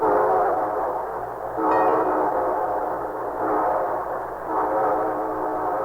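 A train rumbles steadily nearby while its horn sounds in long, sustained blasts that swell and fade.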